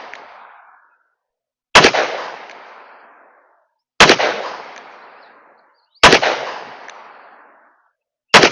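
Taurus Model 66 revolver with a 6-inch barrel fired outdoors, four loud sharp shots spaced about two seconds apart, each trailing off in a long echoing decay, with the start of another at the end.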